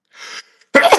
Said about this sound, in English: I've been sneezing and coughing because of all the pollution here in this area